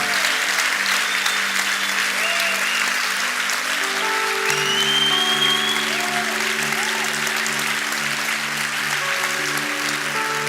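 Church congregation applauding, a sustained wash of many hands clapping at steady strength for about ten seconds, with faint tonal notes, probably instruments, underneath and no clear speech.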